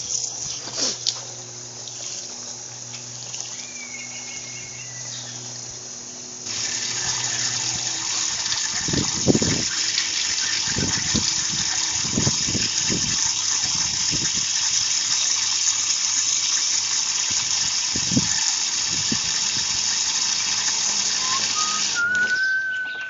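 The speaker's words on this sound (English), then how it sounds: "just rinsing out the coolant there." Water gushes steadily while rinsing coolant out of the radiator of a 2009 Hyundai Accent, a continuous rushing flow with a few thumps and faint whistling tones.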